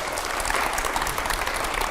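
A studio audience at a televised rapid-fire interview with India's foreign minister bursts into loud, dense, sustained applause.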